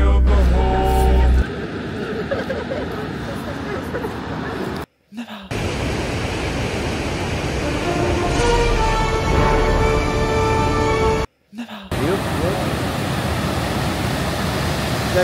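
Gullfoss waterfall in Iceland gives off a loud, continuous broadband roar, heard close up with wind buffeting the microphone and two brief dropouts.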